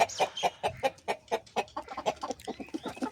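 Three backyard hens and a rooster, clucking up close in a quick, steady run of short calls, fairly faint overall.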